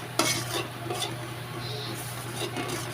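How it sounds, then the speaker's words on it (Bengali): Turmeric-laced spice paste is stirred and fried in hot oil for an egg and pointed gourd curry, a steady soft sizzle broken by a few sharp scraping stirs of the spoon against the pan. "এখন এটা ভালো করে নেড়ে চেড়ে একটু আমি তেলে ভাজা ভাজা করে নেব।"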